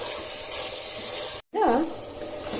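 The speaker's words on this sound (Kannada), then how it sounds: "ಫ್ರೈ ಮಾಡ್ಕೋತಾ ಇದ್ದೀನಿ" Tomatoes frying for chicken palav in a pan on high flame give a steady, loud sizzle that is briefly cut out, then resumes under a short voiced sound.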